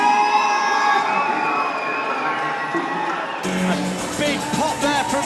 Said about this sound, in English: A big pop there from the crowd for Ryan Sampson.